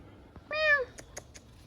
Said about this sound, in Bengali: এ দেখেন বিড়াল